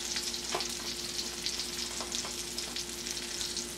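Salmon fries in butter and its own released oils, giving a steady, fairly quiet sizzle with small crackles and pops throughout.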